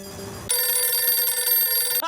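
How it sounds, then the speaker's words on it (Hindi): After a brief moment of background voices, a telephone rings with a loud, bright, sustained electronic tone that holds steady for well over a second before cutting off. "भिड़े का फोन आया।"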